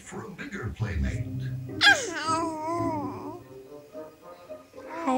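A dog gives a single high, sliding yelp-like bark with a falling whine, close by, amid surrounding voices and babbling.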